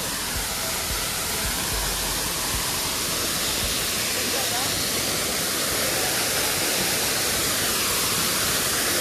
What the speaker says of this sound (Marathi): आता भारी धबधबा बघा